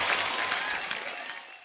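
Sustained, dense applause from a studio audience on the Kapil Sharma Show welcomes guests, steady clapping throughout the short stretch with no talking.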